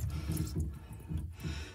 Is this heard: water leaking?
yes